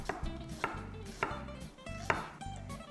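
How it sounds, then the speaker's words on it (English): A knife chops ginger into thin slices on a cutting board, striking in a steady rhythm of five crisp, evenly spaced taps, close and fairly quiet, with no other sounds around it. "Cut into thin slice."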